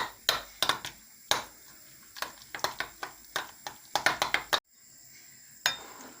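A spoon stirs a potato and vegetable casserole mixture with mayonnaise, producing a series of close, quick clinks and scrapes against a bowl in irregular bursts, then a short pause and one last knock.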